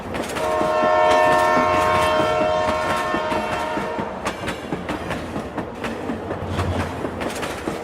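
A train rumbles into Raghunathpur railway station with a long horn blast, then wheels clack over the rails as it rolls along, loud and close.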